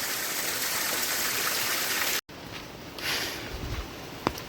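Clean waterfall water pours in a loud, steady hiss and rush, briefly cut by a sudden dropout, then flowing on a little softer with some splashing and handling noise close by.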